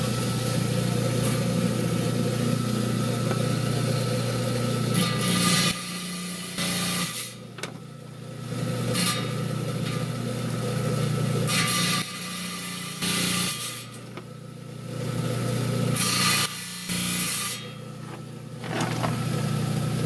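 A trim saw cuts a zebra marble slab to rough out a cabochon shape, giving a steady, loud grinding whine that drops away briefly several times as the blade pauses between passes.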